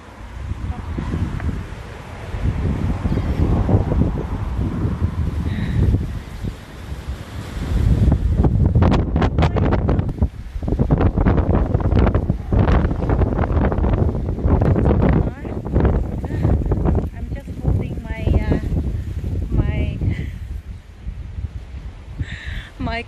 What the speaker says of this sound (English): that was so windy over there